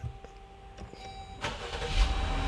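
A car engine with a weak battery and a starter known to cut out cranks briefly and then catches, its low rumble building and settling into a steady idle close by. No one speaks.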